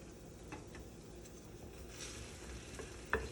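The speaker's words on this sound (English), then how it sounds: "I've already started a little over medium heat with my 2 tablespoons of extra virgin olive oil and my small chopped onion" A small chopped onion sautéing over medium heat in two tablespoons of extra virgin olive oil, a faint steady sizzle with light stirring and a sharp utensil clink near the end, no talking.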